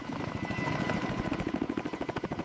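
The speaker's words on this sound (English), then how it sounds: "Marines boarded MH-60 Nighthawk helicopters on the deck of the ship." MH-60 Nighthawk military helicopters fly overhead with a loud, rapid rotor chop and engine roar, the pulsing blade beat growing more distinct toward the end, with no voices.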